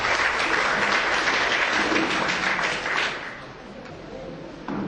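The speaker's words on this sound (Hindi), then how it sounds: "अभी इनका स्वागत कीजिए जोरदार तालियों से।" Sustained applause from an audience at a Hindi poetry gathering on Hindi Divas, a dense, steady clapping that stays strong for about three seconds and then eases off somewhat before swelling again briefly.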